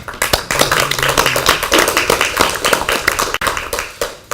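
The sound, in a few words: applause at party caucus meeting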